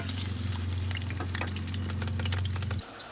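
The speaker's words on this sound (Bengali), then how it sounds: "আর এদিকে দেখো আমি এখানে আলুটা ভাজছি।" Potatoes frying in a pan of hot oil, a loud continuous close sizzle with a low steady hum underneath that cuts off near the end, no talking.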